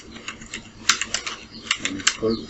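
Typing on a computer keyboard during a poster design session in Photoshop, quick irregular clicks and taps with a couple of sharper key strikes, close up and fairly quiet.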